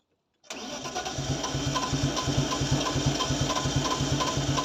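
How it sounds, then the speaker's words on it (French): An E36 Compact fitted with a BMW 320i engine cranks on its starter motor, a close, loud, rapid rhythmic churning that starts abruptly and keeps turning over steadily without firing. "Tu vas fumer le démarreur si tu fais ça."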